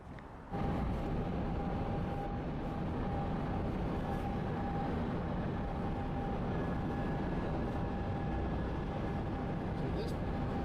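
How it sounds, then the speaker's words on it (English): A westbound freight train passes near Union Pacific tracks on the Big Boy 4014 route, a steady heavy rumble with a faint sustained tone riding above it throughout. "the footage of the two westbound freight trains I caught on camera"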